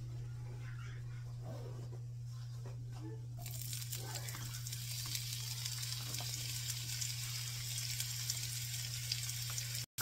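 Diced onions and green pepper hit hot olive oil in a skillet, and a steady broad sizzle starts partway through and holds loud and close until the end, over a constant low hum.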